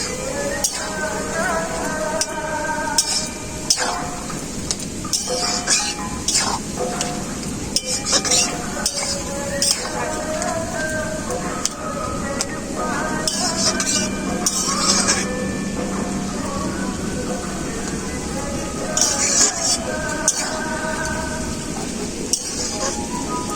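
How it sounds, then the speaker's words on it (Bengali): Footi greens stirred with poppy seed paste in a pan, a spoon clinking and scraping against the metal over a soft sizzle, with scattered taps and rattles throughout. "পোস্তটা দিয়ে নাড়াচাড়া করে নিয়েছি"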